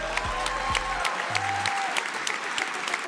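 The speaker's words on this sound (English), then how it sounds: "So let's give them a big round of applause." An audience in the AMD space at CES 2026 applauds the top three hackathon teams, a sustained, even wash of clapping from a crowd, with brief tonal sounds early on beneath it.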